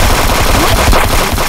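Loud, dense bursts of automatic weapon gunfire in a video game sound as rapid continuous shots with no pauses across the short span.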